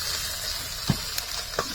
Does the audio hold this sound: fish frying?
yes